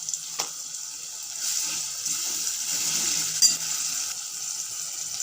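Ginger garlic paste frying in a pan gives a soft, continuous sizzle with faint scraping and a small clink partway through.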